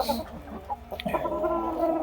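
Chickens cluck in short, close bursts in a farmyard, with a French-breed rooster's call mixed into the brief flurry of fowl sounds.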